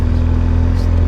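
BMW R 1200 GS boxer motorcycle engine, a 2015 model, running steadily up close with a strong low throbbing hum and no clear rise in pitch, loud and continuous over the short stretch.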